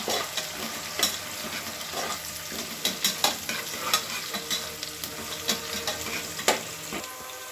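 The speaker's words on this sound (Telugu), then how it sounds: "ఆనియన్ కొంచెం ఫ్రై అయిన తర్వాత ఇందులోనే మనం తీసి పెట్టుకున్న మసాలాలు అన్నీ వేయాలి" Spices fry with onions in hot oil for Telangana bagara rice, a steady close sizzle broken by repeated scraping strokes of a spoon stirring the pan, with no speech.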